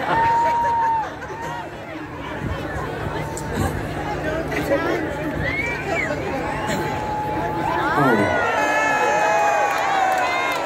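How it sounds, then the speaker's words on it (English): An outdoor concert crowd at Cardiff Castle cheers and whoops at a pop singer's show, a broad sustained roar of voices and whistles with talk over it. "biggest cheer of the night is because I can twiddle a drumstick"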